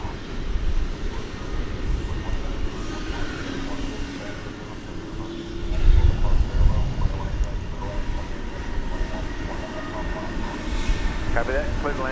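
An airliner lands at Dallas/Fort Worth International Airport, its engines a broad roar with a swelling rumble partway through. Air traffic control radio chatter plays over the sound.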